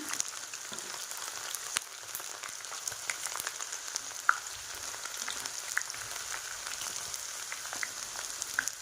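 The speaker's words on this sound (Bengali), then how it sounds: "দেখো, এই গরম তেলেই এই রসুনটা হতে থাকবে।" Chopped garlic sizzles in hot oil for a mixed pickle after the gas is turned off, a faint, steady frying hiss dotted with small crackles and pops, with no talking.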